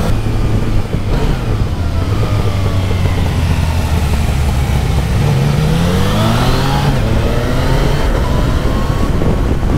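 A Yamaha Niken three-wheeled motorcycle engine, loud and close while ridden on wet roads, its pitch steadily rising and falling through gear changes and throttle surges with wind rush throughout.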